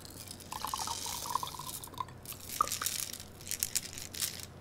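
Liquid poured out of a lab tube holding glass beads during a cellular respiration experiment, with dripping, splashing and glassy clinks that come in scattered bursts, close by and fairly faint.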